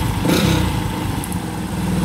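A Rouser 135 motorcycle, back in service after three months in storage following a smoking wire harness and with a noisy timing chain, revs up loudly close by, then settles to a clattering idle.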